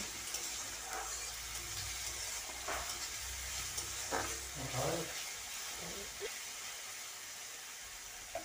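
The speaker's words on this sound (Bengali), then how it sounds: "এবার আদা রসুনের কাঁচা গন্ধ চলে যাওয়া পর্যন্ত আমি ভেজে নেব" Onion with garlic and ginger paste fries in a pan for a dal tadka, with a soft steady sizzle, faint stirring scrapes and a few quiet clinks close by.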